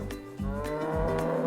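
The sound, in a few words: cow mooing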